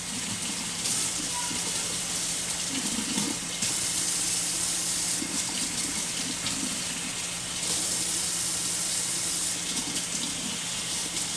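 Lukewarm tap water runs steadily from a faucet into a bottle, a constant moderate hiss and splash lasting throughout, with faint background sounds and brief pauses in flow.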